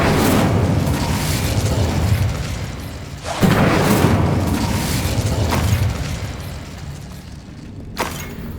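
An Incendio fire spell goes off in the video game Hogwarts Legacy, with loud roaring bursts and whooshes at intervals and a sharp pop near the end.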